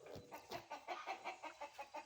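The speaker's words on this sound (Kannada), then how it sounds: "ನಾಟಿ ಕೋಳಿ ನಮ್ಮ ಹತ್ರ ಇರೋವೆಲ್ಲ ನಾಟಿ ಕೋಳಿ" Native free-range farm chickens cluck in a quick, regular series of about nine soft clucks, close by and alone with no talk.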